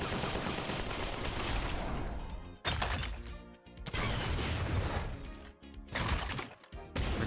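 Cannon fire in the online game Mabinogi, heard as dense, loud booming blasts that roll on continuously, broken by a few brief gaps, with no talk over them.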